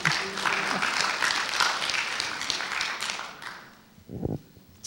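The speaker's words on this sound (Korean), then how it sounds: "할렐루야, 박수!" A church congregation at a Wednesday worship service claps together, a dense burst of applause that holds steady for several seconds, then fades to scattered claps before a low voice speaks.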